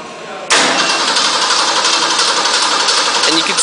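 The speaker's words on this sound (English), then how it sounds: "now we're going to go ahead and start up the engine" A car engine cranks and catches abruptly, then settles into a loud, steady idle close by.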